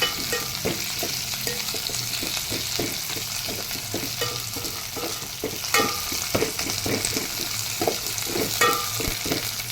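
Food frying in a pan while being stirred, with a steady sizzle and repeated scraping stir strokes running throughout at close range, no talking.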